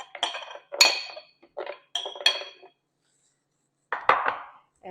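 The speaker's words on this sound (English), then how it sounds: "So I'm going to put the blueberries in the Vitamix." Frozen blueberries clatter into a Vitamix blender container in several short, hard bursts close by, with quiet gaps between the pours.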